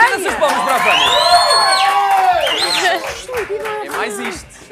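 A studio audience at a Christmas television show cheers and whoops loudly, shouting and calling out at close range, with some clapping under the voices before the noise thins out toward the end.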